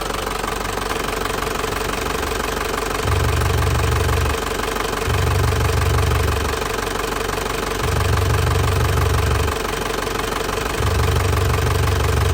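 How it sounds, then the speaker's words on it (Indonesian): A warmed-up 2007 Isuzu Panther Grand Touring diesel engine idles steadily with a clattering, knocking rhythm, and a deeper rumble swells and fades in a repeating pattern over the loud, continuous running. "Kondisi mesin sudah panas, dari tutup oli aman"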